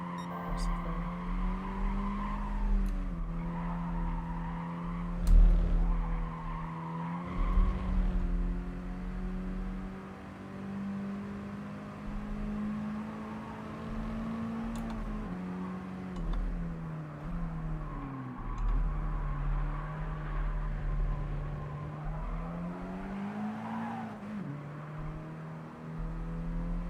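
GT Sport race car engine droning and revving through a lap, a loud sustained buzz that rises and dips with gear changes and throttle, with brief tire scrubs and bumps along the way.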